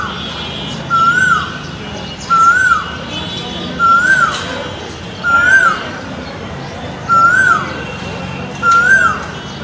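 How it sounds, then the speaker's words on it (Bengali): An Asian koel calls outside a window in spring, repeating a clear rising whistled note six times at a steady, even pace over faint background hum. "কত সুন্দর কোকিল ডাকছিল,"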